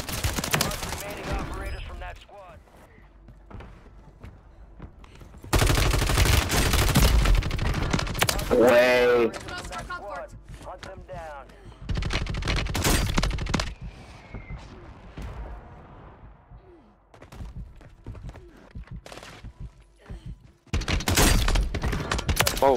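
Shotgun blasts in Call of Duty: Warzone come in loud, heavy bursts, with several booming shots spread across the stretch. Quieter game ambience and a voice talking fill the gaps between them.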